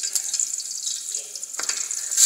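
Water poured into a cooking pot holding carrots and potatoes for a Jamaican chicken stew, a steady close hiss of liquid running for a couple of seconds.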